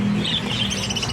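Pet parakeets squawk and chirp in a steady, busy chatter, several birds calling over one another at close range with no voices.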